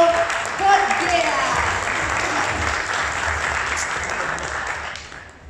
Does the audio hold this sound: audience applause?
yes